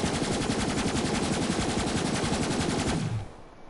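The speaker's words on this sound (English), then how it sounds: "So I don't have any complaints with the Hell Shock." The Hellshock gun in Borderlands 3 fires a continuous rapid stream of shots, loud and dense for about three seconds before cutting off, with no talking over it.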